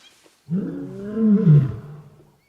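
Lions roaring at close range on a floodplain in Gorongosa Park, Mozambique: a deep, rumbling roar that swells loudly over about two seconds with no talk, rising to a peak before fading.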